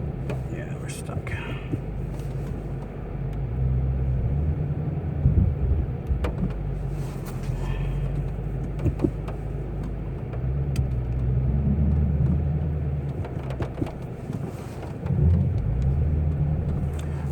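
A Ford GT350 sits stuck in snow on a sloped driveway, its engine rumbling and surging in low revs as the rear wheels spin, with a few swells of power under quiet talk throughout.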